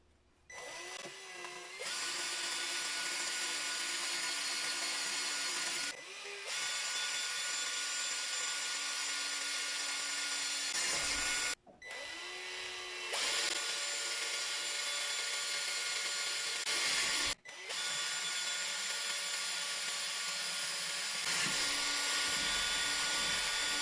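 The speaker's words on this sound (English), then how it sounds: "now I'm going to go ahead and start drilling" Power drill boring holes into a Lexan windshield, a loud high-pitched whine in four long sustained bursts separated by brief pauses.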